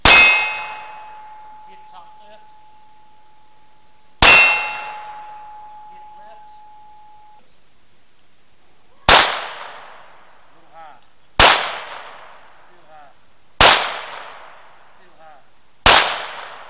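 Taurus TX22 .22 pistol shots striking a steel target at an outdoor range: six sharp, loud metallic clangs at spaced intervals, each ringing out and fading.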